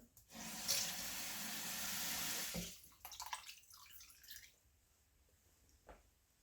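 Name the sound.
water poured into cooking pan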